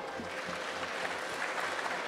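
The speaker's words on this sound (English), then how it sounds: "Round of applause, come on." A small crowd claps steadily for a couple of seconds, a dense patter of applause with no voices standing out.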